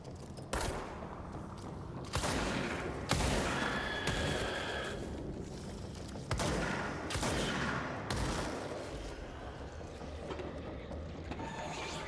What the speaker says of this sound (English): It's a fucking shotgun.